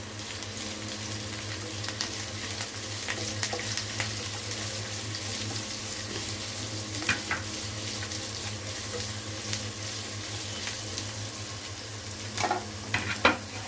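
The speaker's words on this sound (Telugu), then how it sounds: "తర్వాత దీనిలోకి మామూలుగా కట్ చేసించుకున్న ఆనియన్స్ పచ్చిమిర్చి కరివేపాకు అన్నీ వేస్తాను" Onions, green chilies and curry leaves frying in a pan, a constant loud sizzle with occasional stirring scrapes and a low steady hum, close by and uninterrupted by talk.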